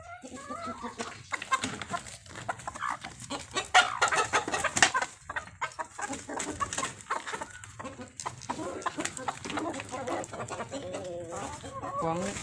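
A small flock of laying hens clucks and murmurs continuously close by, with busy overlapping calls and a person talking in between.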